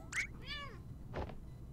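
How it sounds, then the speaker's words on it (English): A cat meows in the video game Impostor Factory, two or three short, clear meows close by with a soft thud in between, fairly quiet and with no talk over it. "Oh, cat's up here."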